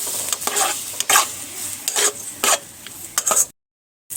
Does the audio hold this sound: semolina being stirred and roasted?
yes